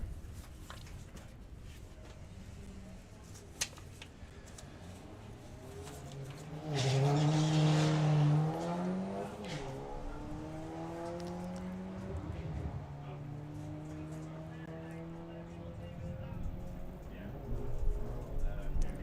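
Drag race cars, an Audi A6 and a Golf GTI, launch and accelerate down the strip, a loud engine burst mid-clip rising then falling away, under continuous commentator talk and crowd ambience.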